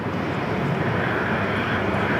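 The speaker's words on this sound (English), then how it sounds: "A330." A former Qantas Airbus A330 passenger jet, now flying as a freighter, roars steadily at Sydney Airport with a loud, continuous broadband jet engine rush and no talk.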